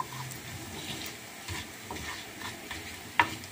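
Vermicelli frying in a pan while being stirred for Turkish-style pilaf, giving a steady soft sizzle with scraping stir strokes and one sharp clink near the end.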